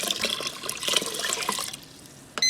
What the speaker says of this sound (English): I'm gonna add 6 cups of water.